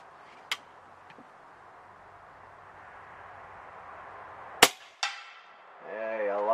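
A Snowpeak M60B .357 (9mm) air rifle fires Predator Polymag pellets: one sharp crack rings out, a smaller snap comes soon after, and a faint hiss and a few light ticks sit between them.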